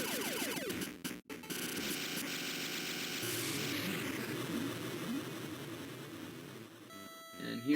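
Helicopter in the video game Trax, a steady droning rotor and engine roar that runs loud and continuous, with a brief dropout near the start and game sounds layered over it.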